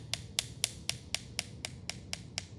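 A hammer taps out an even rhythm of about ten crisp, light strikes, evenly spaced and fairly close in a quiet room, with no one talking.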